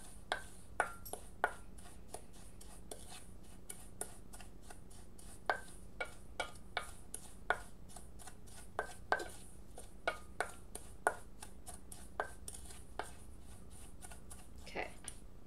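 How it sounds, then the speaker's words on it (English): A spoon clicks and taps faintly against a bowl while spices are mixed together, giving sparse, irregular light strikes over a quiet room hum. "I'm just going to mix it together really well"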